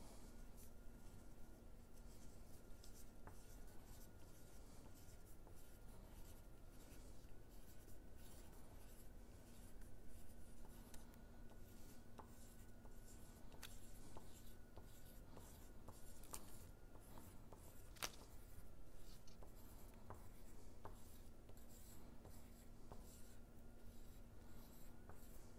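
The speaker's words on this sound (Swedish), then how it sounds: "Nu kan man välja om man vill rita lite frö med en krita." Chalk drawing seeds on a surface at a school-holiday art workshop, heard as quiet, steady scratching and rubbing strokes repeated over about twenty-five seconds, close but faint, with no talking.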